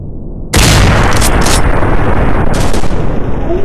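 Loud, continuous gunfire in a commando shooting game on a Dustown level, bursting in abruptly after a brief lull and holding as a dense, close barrage of shots with no voices.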